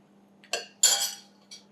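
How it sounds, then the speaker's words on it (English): A metal cake scraper coated in chocolate ganache is rinsed under hot water, giving a few brief close metallic clinks and scrapes against a quiet low hum. "now beyond this point I have to let the scraper clean up with the hot water"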